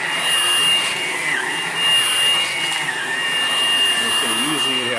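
A Hoover Blade Plus vacuum cleaner runs steadily while cleaning a floor, a close, loud, continuous high-pitched motor whine with a slight rise and fall as it is pushed about.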